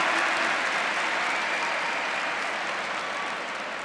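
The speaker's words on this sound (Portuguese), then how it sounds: "Olha para ele e aplauda." A congregation at a church youth service applauds with a continuous wash of clapping that sounds somewhat distant and fades slightly toward the end.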